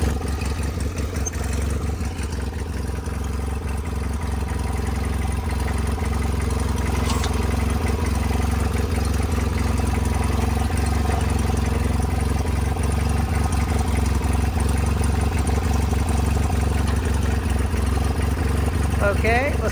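A 520 tractor with a loader, its engine running steadily at idle, a loud constant low rumble throughout, with people talking over it.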